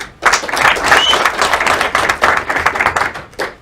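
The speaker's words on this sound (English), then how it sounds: "Big applause" Applause for a student being introduced at a European Voice of Tomorrow event, a dense burst of many hands clapping that swells quickly, holds steady, and thins slightly near the end.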